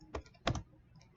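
Two short clusters of computer keyboard keystrokes, soft and close, with a brief pause between them and quiet room tone after, no speech.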